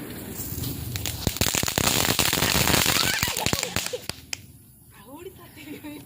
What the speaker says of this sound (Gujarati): ફટાકડા ફોડે